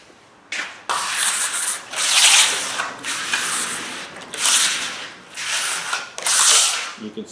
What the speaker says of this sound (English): Work it with a trowel.